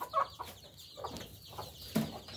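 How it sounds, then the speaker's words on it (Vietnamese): Hungry chickens in a farm coop cluck in short, scattered bursts, a few nearby hens calling irregularly against a quiet background. "Con gà ăn đó, ăn cứ chưa rồi mà giờ này nó đói bụng nó kêu đó nha"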